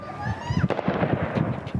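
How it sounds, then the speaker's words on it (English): Sharp gunshot cracks ring out several times amid a noisy crowd in Kabul, with people talking and shouting close by. "They barely flinch as the gunshots ring out around them."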